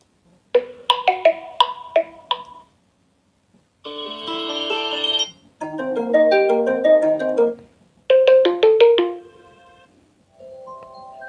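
A OnePlus Nord CE4 smartphone plays several ringtone previews one after another: bright melodic chimes and tones in separate bursts with short silent gaps, clear and close, no voices.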